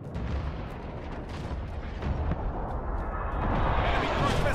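An airstrike pounds the battlefield in Call of Duty: Modern Warfare (2019). Heavy explosions merge into a continuous rumbling roar, with booming bursts that grow louder and denser toward the end.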